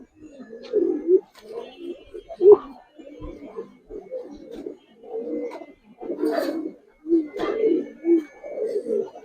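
Giribaz pigeons coo in soft, separate bursts close by, low murmuring phrases pausing between calls over a quiet background.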